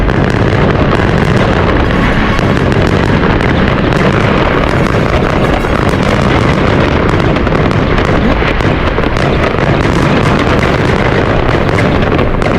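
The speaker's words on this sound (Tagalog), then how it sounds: "Grabe yung putokan, isang oras na!" New Year fireworks and firecrackers explode continuously in Greenland, a dense, loud barrage of crackling bursts and booms with no pause.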